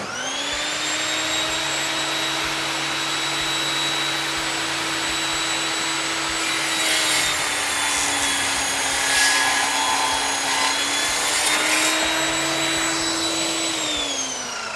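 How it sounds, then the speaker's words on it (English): Steady high-pitched whine of a circular saw with an Evolution RAGE5-S wood blade running through a thick, roughly two-inch oak hardwood board, loud and close, with the motor pitch dipping slightly under load mid-cut. "First up, we've got this big section of oak hardwood for you."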